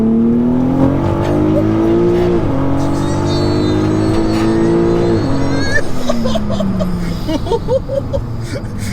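A heavily modified VW Golf R of about 1187 bhp revs hard to high RPM, its engine note climbing and holding. The pitch drops at each shift, then the engine settles into a rougher, burbling tone near the end.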